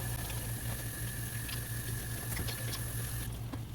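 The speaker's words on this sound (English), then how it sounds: "We're gonna wash our hands real quick" Tap water runs in a steady, moderately close hiss as hands are washed in a home kitchen, with a low mechanical hum underneath and no talking.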